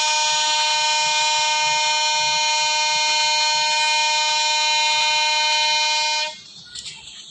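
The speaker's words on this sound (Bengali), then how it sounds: "একটা কমিউটার ট্রেনকে আমরা থ্রু পাস করে চলে যাব। Bye bye commuter train." A commuter train in the mobile game Train Simulator Bangladesh passes with one long, loud, steady horn blast held for about six seconds, then cut off abruptly, leaving faint background rumble.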